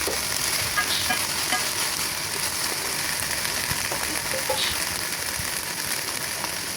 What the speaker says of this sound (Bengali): আলুটা একটু ভালো করে কষাই নিয়ে দিয়ে দিচ্ছি একটু আদা বাটা, পেঁয়াজ, লবণ,